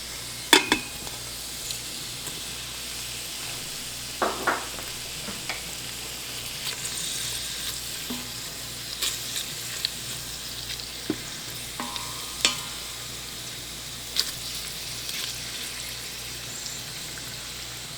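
Seasoned tofu frying in an Instant Pot, a steady close crackling sizzle throughout with scattered sharper pops and occasional clinks of stirring.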